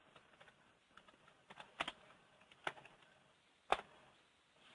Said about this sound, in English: I can't see it, so I'll just type it in.